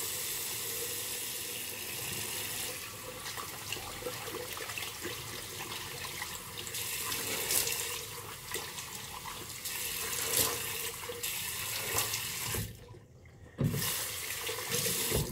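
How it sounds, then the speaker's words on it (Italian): Tap water running into a bathroom sink while rinsing the face before shaving, a steady close rush of flowing water with splashes and hand movements, a brief pause near the end, then the flow resumes. "Quindi acqua, io mi sciacquo il viso."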